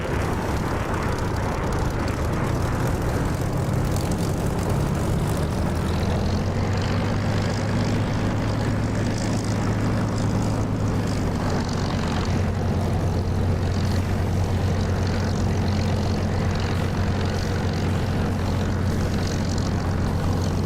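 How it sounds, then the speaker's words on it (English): A propeller aircraft engine taxiing at about 1500 RPM in the DCS flight simulator game, a steady loud droning hum with a low throb that shifts slightly in pitch partway through, continuous throughout with no talking. "as I'm taxiing, I'm going to be at about 14 or 1500 RPM"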